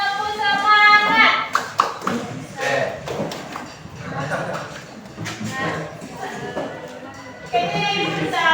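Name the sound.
rhythmic group clapping routine (tepuk semangat)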